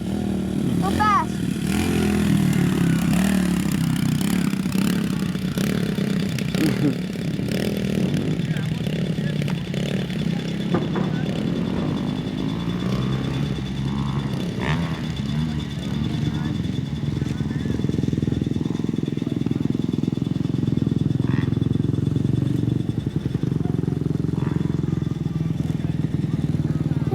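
A motorcycle runs laps on a dirt track, its engine droning steadily close by for the whole stretch with small shifts in pitch, while people talk over it at times.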